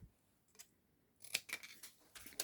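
Scissors snip through card stock for a handmade easel card, a few quiet crisp cuts spaced irregularly over a couple of seconds with no talk.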